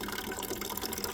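Meltwater drips and trickles from ice outside a school after overnight rain, a close, dense, continuous watery patter with no one talking.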